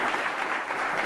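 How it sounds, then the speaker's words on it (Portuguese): A church congregation applauds in a brief, dense burst of clapping that stays even in level from start to finish. "Você pode dar um aplauso"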